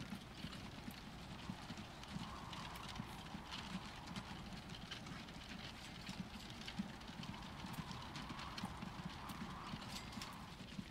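Steady clip-clop of hooves from a horse-drawn wagon in the video game Transport Fever, a continuous rhythmic clatter over a low rumbling background, fairly faint throughout.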